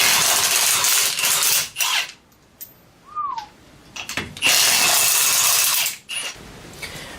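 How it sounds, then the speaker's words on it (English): An impact wrench rattles off the lug nuts on a Chevy Silverado K2500 pickup in several loud, close bursts, with quieter pauses and a short clink between them. "Me, I have an impact, so we're just going to do it that way"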